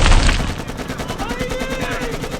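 Rapid automatic gunfire rattles in a virtual reality combat simulation, with evenly spaced shots in a steady stream following an initial loud blast, close and continuous.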